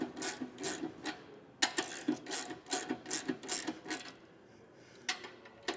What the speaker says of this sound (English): Take a 3/4 inch socket, and we're going to go ahead and tighten these up.